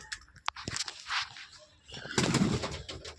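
Wild pigeons coo at a pigeon loft, soft repeated throaty calls close by, with a brief wing flutter or scuffle and a louder rustling burst toward the end.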